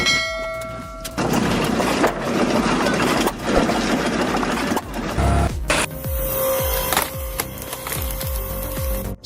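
An engine-driven log splitter runs with a steady, dense mechanical drone, joined later by a high whine and a series of rhythmic knocks and clanks from the machinery; no one speaks.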